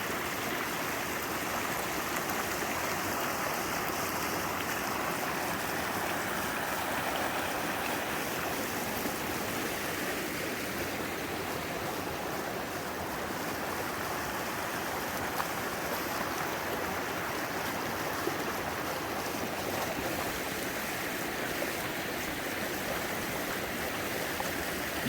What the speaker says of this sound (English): We down here in this creek.